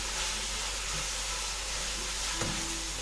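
Vegetables fry in a pan with sauce, salt and spices over medium heat for egg fried rice, a steady even sizzling hiss that carries on unbroken, with a faint clink partway through.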